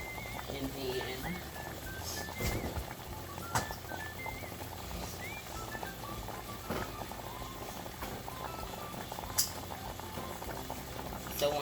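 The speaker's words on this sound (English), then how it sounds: "We're gonna turn off the heat while it bubbles" Sour cream and butter sauce bubbling in a pan on the stove, a steady close simmering patter of popping bubbles with occasional sharper pops, continuing evenly throughout.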